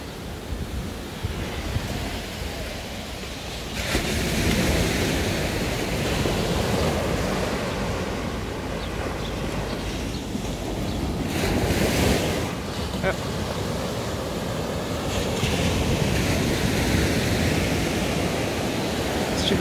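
Ocean surf crashing at Balneário Camboriú beach, a continuous roar of breaking waves with gusty wind buffeting the microphone, steady and fairly loud throughout with swelling surges.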